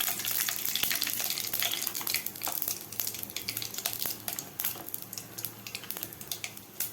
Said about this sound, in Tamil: கொஞ்சம் பெருஞ்சீரகம் பொரியுது, எண்ணெய் காஞ்சிருக்கு